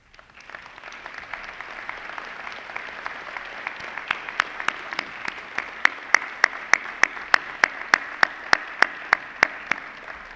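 Graduation audience applauding loved ones of the graduates, a steady wash of clapping with one or two loud, sharp claps standing out in a regular rhythm near the end.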